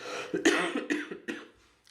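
A run of four or five harsh, raspy coughs in quick succession, close and fairly loud, with no talking.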